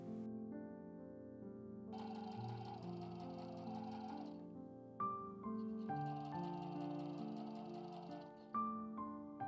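A sewing machine stitches the lining fabric of a drawstring bag three centimetres from the folded line in two steady runs of rapid mechanical whirring, with a short pause and repositioning between them. The machine is close and quiet.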